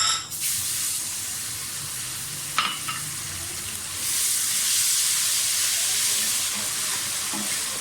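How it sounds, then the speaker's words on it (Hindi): Garlic-ginger paste hits frying onions in a pan for bhuna keema, bursting into a loud, close sizzle with a couple of utensil knocks, then settling into a steady, intensifying hiss of frying with no talking. "प्याज हमारा फ्राई हो गया। इसमें लहसुन अदरक का पेस्ट डाल दें।"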